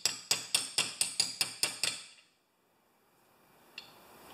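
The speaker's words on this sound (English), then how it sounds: "I'm just tapping this bushing down, this plastic bushing." A plastic bushing being tapped down on a Craftsman 6.5 HP Tecumseh engine gives eight close, evenly spaced hammer taps that ring briefly. Quiet follows, with one faint tick near the end and no talking.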